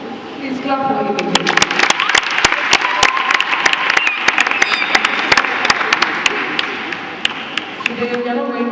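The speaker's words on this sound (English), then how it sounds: "Please clap for him." Church audience applauding loudly and steadily for a speaker, with sharp individual claps standing out over the dense clapping and some voices mixed in, tapering off near the end.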